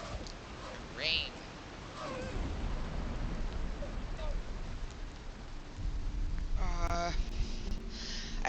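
Steady rain with gusting wind in the Valheim video game, a continuous wash of hiss and patter filling the whole stretch, with faint voices and a brief tonal game cue near the end.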